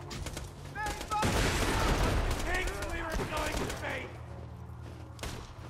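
Rapid bursts of gunfire from a weapon in the video game Borderlands 2 crackle over several seconds, with voices talking over the shooting.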